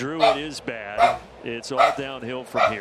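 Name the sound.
dogs barking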